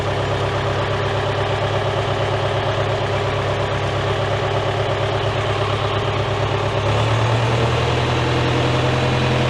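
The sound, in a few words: David Brown tractor engine bogging during Selectamatic hydraulics test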